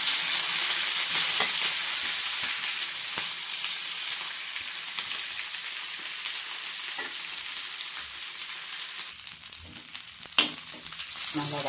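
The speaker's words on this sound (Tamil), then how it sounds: "நம்ம வல்லாரக்கீரையும் வதக்கலாம்." Vallarai (brahmi) greens sauté in a hot pan with a steady broadband sizzle throughout, occasional stirring clicks and scrapes, and a brief louder clatter near the end; no talking.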